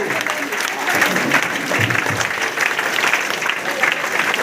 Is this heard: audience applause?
yes